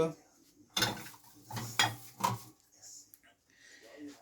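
A metal spoon scrapes and clinks against a cooking pan while eggplant chili paste is scooped out, giving several separate sharp knocks and scrapes with quiet gaps between them.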